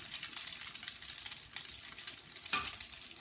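Potato latkes sizzling in oil in a skillet being spun on the stove, a steady close frying hiss with soft scraping stir sounds and one brief louder scrape near the end.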